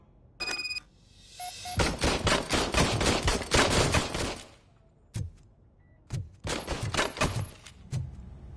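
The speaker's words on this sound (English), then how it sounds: "I was issued this old gun and serviced it according to the manual. I will try it out." An old serviced gun is test-fired in RoboCop: Rogue City, a long rapid burst of loud automatic shots, then a single shot and another short burst, with a ringing electronic tone near the start.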